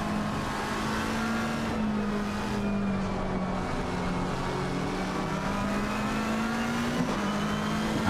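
A McLaren 720S GT3 racing at Suzuka in Assetto Corsa Competizione drones steadily under throttle, its engine pitch holding and dipping slightly as revs shift, loud and close throughout with no talk.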